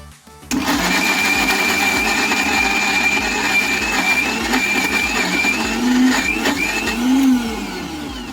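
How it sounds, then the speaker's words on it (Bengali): A mixer grinder blending chicken with egg and bread starts abruptly and runs at a loud, steady whirring pitch for about eight seconds, with a rhythmic rattle and slight shifts in tone as the load churns. "এবার চলে যাচ্ছি ব্লেন্ড করতে।"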